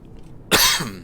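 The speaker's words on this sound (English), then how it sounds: "So I've got a slight cough." One short, raspy cough, loud and close, after a moment of quiet.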